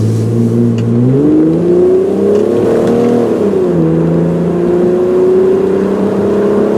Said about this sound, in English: no problem getting up to 60 miles an hour, which is where we are right now